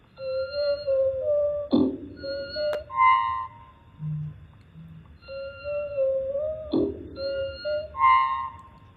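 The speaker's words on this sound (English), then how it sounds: "we're going to do just a bit more refining of the sound target of the starling" Recorded starling song: whistled, chord-like tones and sharp clicks form a phrase that is heard twice with a short gap between, moderately loud and alone.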